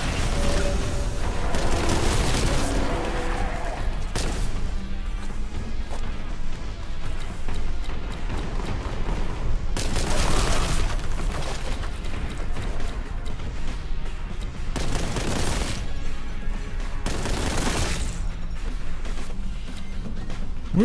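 Heavy, continuous gunfire and booming blasts from the Warhammer 40K: Boltgun video game, loud and dense throughout with periodic bigger explosive bursts layered over a constant roar.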